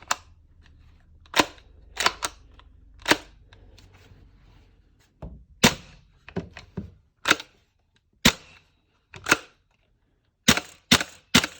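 Sharp clicking snaps from a Tokyo Marui MWS gas airsoft rifle fitted with a BRN-180 kit, fired as irregular single shots and short bursts, close and loud in an otherwise quiet room.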